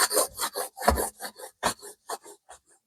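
A spoon burnishing the back of a mono print on paper, making a series of short, close scraping rubs in an uneven rhythm, about a dozen strokes that fade toward the end.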